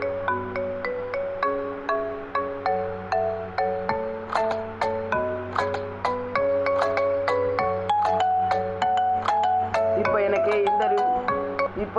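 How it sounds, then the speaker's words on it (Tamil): Mobile phone ringtone plays a steady, looping chime melody of bright, bell-like notes, loud and close throughout, with a low sustained hum underneath. "இப்போ எனக்கு இந்த ரிங்டோன் பிடிச்சிருக்கு."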